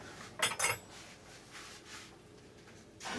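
A metal spoon clinks sharply against dishes twice near the start, then faint handling and scraping, with another clatter at the end, quiet and close.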